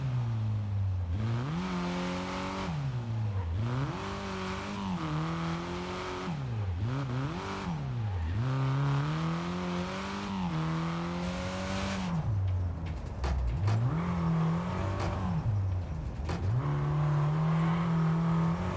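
Rally car engine in the EA Sports WRC video game revs hard and repeatedly, pitch climbing through each gear and dropping on shifts, loud and continuous with no talking.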